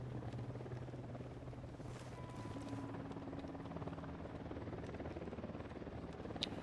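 A video game helicopter drones steadily with a low rotor thrum and whine, fairly faint and continuous, with no talking.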